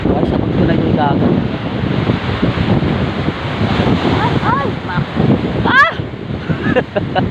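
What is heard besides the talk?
sea waves on the shore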